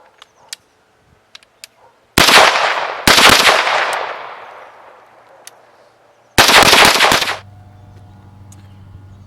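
An AR-style rifle with a JMT Sabre drop-in trigger firing from a 10-round California magazine outdoors: a few faint clicks, then three loud bursts of sharp reports with ringing decay, followed by a low steady hum.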